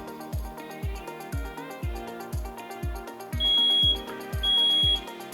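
Smoke detector alarm beeping in shrill, sustained tones, with two long beeps near the end, layered over music that has a steady, punchy kick-drum beat.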